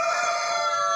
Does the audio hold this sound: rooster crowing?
yes